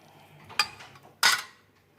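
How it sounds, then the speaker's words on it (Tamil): Burmese atho noodles are mixed with chicken masala in a bowl, giving two sharp metallic clinks of a utensil against the dish, the second louder, in an otherwise quiet kitchen. "இப்போ நான் சிக்கன் மசாலா இப்போ சேர்க்க போகிறேன். இதெல்லாத்தையும் நல்லா மிக்ஸ் பண்ணி விட்டுக்கலாம்."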